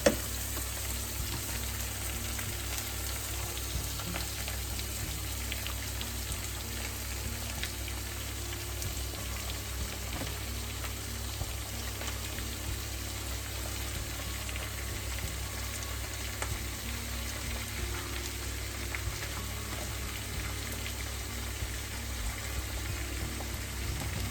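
Minced beef fries in a pan with a steady, close sizzle that runs unbroken and fairly even throughout, with no talking.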